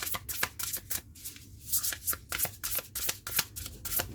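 Tarot cards being shuffled by hand, a rapid run of crisp riffling bursts close up, with brief pauses between riffles and no voices.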